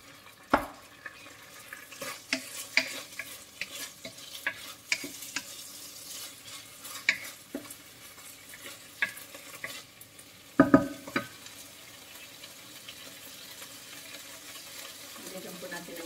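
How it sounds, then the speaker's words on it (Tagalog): A utensil stirs and crushes sardines with bitter gourd in a pan, giving close, irregular scraping taps and clatters over a faint sizzle, with a few louder knocks partway through. "Durugin po natin konti yung sardinas para sumama siya sa gulay."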